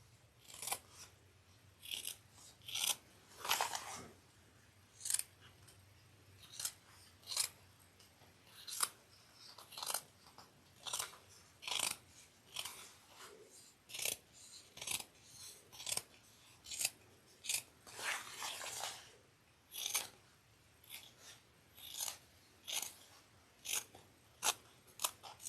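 Scissors trim fabric for a fold-over cross-body bag in a string of close, crisp snips, quick bursts separated by short pauses, with no talking.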